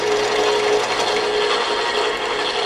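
Drill press bores into a piece of wood with a loud, continuous grinding rasp and a steady motor whine, unbroken and close, with no talking.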